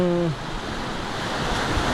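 Steady roar of sea surf washing onto the shore at Patungan Beach, with wind noise on the microphone and a brief voice at the very start.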